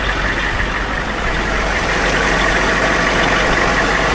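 A military surplus Humvee's engine roars loud and close while driving, a steady heavy drone with a rumbling low end that never lets up.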